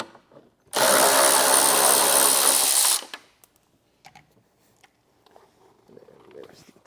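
Bumper bolt being loosened with an 8mm tool, a loud continuous power-tool whir lasting about two seconds, followed by scattered faint clicks and handling noises.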